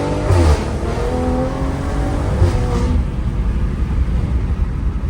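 A Stage 2 BMW M340i in Sport mode pulling hard with its Dinan valved exhaust closed, a muffled, rising engine drone with a shift midway and road and tire roar, heard from inside with no talking.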